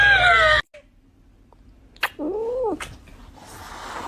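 A kitten gives a drawn-out, wavering meow in a quiet room, preceded by a brief burst of other squealing noise and followed by faint rustles.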